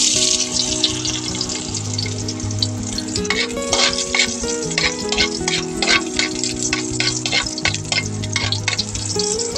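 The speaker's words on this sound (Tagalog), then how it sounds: "magigisa na ako ng bawang sibuyas" Garlic and onion sauté in a hot pan for a dish of sweet potato leaves, with a steady close sizzle and bursts of stirring clatter throughout, and no talk.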